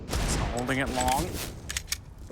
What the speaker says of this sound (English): Deagle for Floppy. That's not bad